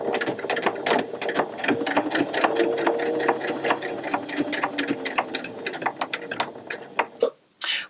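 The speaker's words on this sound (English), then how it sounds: "Once you've completed the first side, trim your threads and complete exactly the same on the second side." A sewing machine stitches an appliqué keyring tab, a fast continuous mechanical whir with rapid needle clatter, close up, ending in a few short bursts before stopping.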